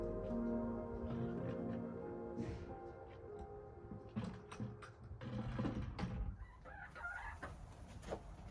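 Chickens on a farm at evening feeding time, steady clucking and a loud rooster crow close by, with scattered squawks and rustling and no talk.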